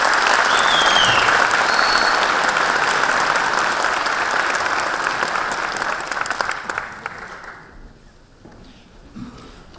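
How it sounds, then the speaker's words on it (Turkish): Audience applause welcoming a speaker to the stage at an İYİ Party provincial organization meeting in Uşak, loud and sustained for about six seconds before fading away into near silence. "alkışlarınızla sahneye davet ediyorum"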